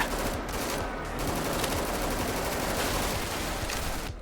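Rapid automatic gunfire in the zombie shooter game DEADFRONT, a dense continuous barrage of overlapping shots filling the whole stretch, loud and unbroken.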